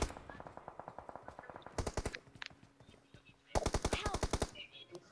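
Automatic gunfire from the video game PUBG Mobile rattles out in rapid bursts, a long string of shots followed by two dense, loud volleys, with faint game sounds in between.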